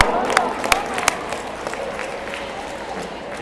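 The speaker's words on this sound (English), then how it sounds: "let's give our officials a round of applause" A gym crowd applauds the game officials before player introductions at a high school sports game against Hermantown, with scattered sharp claps and cheers that swell briefly and then thin out under a low crowd murmur.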